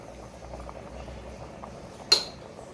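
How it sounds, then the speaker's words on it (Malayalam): Mutton boils in a pot with a low, continuous bubbling close by, broken once by a sharp metallic clink partway through; no one speaks. "നമ്മുടെ മട്ടൺ നല്ലതുപോലെ തിളച്ച് തുടങ്ങി"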